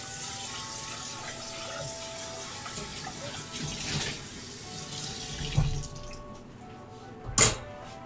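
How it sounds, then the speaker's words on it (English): Tap water runs steadily into a sink while a bowl is rinsed out, with clinks and splashing shifts, then the flow cuts off leaving a couple of sharp knocks of the bowl. "Rinsing out a bowl here to use for my frosting."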